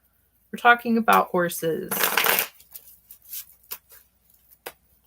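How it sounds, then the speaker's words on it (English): Tarot cards riffle-shuffled by hand in a few quick bursts, followed by a broad, noisy swish and then scattered faint ticks as the deck is handled; someone talks at the start. "I'm just shuffling the cards."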